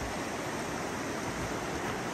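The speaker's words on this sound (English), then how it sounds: "look at this incredible river, the mighty Salmon River" Salmon River rushing beside a rainforest trail, a steady broadband roar of flowing water filling the whole clip with no pauses or voices.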